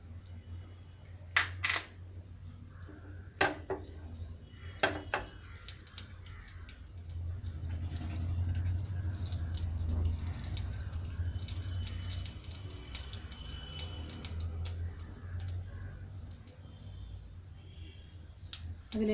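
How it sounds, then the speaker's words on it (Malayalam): Mustard seeds go into hot coconut oil in a pan on a stove: scattered sharp pops come first, then a steady, fairly loud sizzle and crackle carries on throughout. "സ്റ്റൗവിൽ പാൻ വെച്ച് അതിൽ വെളിച്ചെണ്ണ ഒഴിച്ചിട്ടുണ്ട്. ചൂടായിട്ടുണ്ട്. ഇതിലേക്ക് കടുക് ഇടും."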